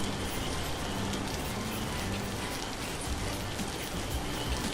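Steady rain in the survival game Vintage Story, an even, close hiss of falling drops that continues without a break and carries no voices.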